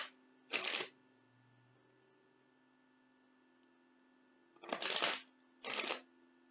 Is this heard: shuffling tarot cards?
yes